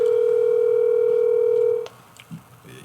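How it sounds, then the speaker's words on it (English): Steady telephone dial tone from a phone line being dialed in for a call, loud and continuous for nearly two seconds before cutting off abruptly into low room noise and faint rustles. "let's get Megan on the phone"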